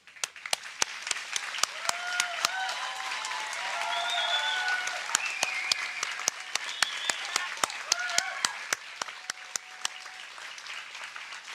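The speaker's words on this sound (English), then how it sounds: "Can I please ask everyone to be upstanding and join me in a round of applause for our graduating" Sustained applause and clapping from a ceremony crowd honouring graduating firefighters of a recruit course, steady and full throughout with some sharp individual claps standing out near the front.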